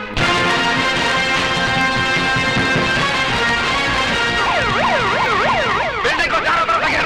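An ambulance siren in a Bollywood action movie: a loud, close electronic wail that holds steady, then shifts into a fast up-and-down yelp pattern near the end.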